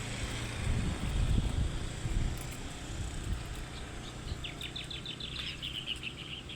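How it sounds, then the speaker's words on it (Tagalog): Birds chirp in short rapid bursts beside a river, fairly faint above a steady rush of water and breeze, with a brief cluster of calls toward the end. "Narinig niyo yan mga ano ng ibon?"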